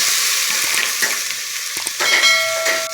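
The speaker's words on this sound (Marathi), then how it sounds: "त्याच्यात तेल घातले, 4 कांदे असे चॉप करून घेतले बारीक आणि ते टाकते" Finely chopped onions hit hot oil in a pressure cooker on a gas stove, producing a loud, close, continuous hissing sizzle that swells slightly as the onions settle.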